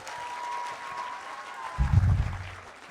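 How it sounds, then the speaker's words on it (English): Audience at a magic show applauding a volunteer, clapping that swells in the final second after a faint tonal hum, fairly close and brief. "Give a round of applause"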